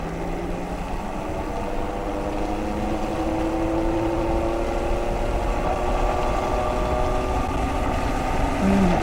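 A Super Soco Wanderer electric motorcycle accelerates flat out uphill through a corner: a steady rising motor whine layered over continuous loud wind and road rumble throughout, with no talking.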